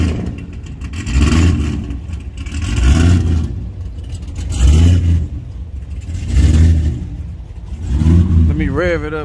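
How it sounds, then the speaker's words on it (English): Car engine with small tires revved repeatedly at a drag racing event, loud rhythmic surges rising and falling about every two seconds, with people talking over it and a brief whine near the end. "Let me rev it up"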